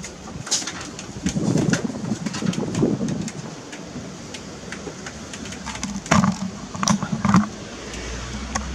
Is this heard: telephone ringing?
no